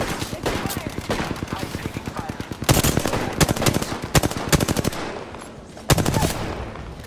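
Rapid automatic gunfire in the battle royale shooter Apex Legends, loud bursts of repeated shots with short pauses between volleys, close and dominant throughout.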